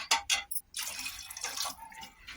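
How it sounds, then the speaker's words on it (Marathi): Water poured from a vessel into dal in a cooking pot, a brief close splashing gush in a few short bursts. "आता अजून थोडंसं पाणी टाकणार आहे मी याच्यात"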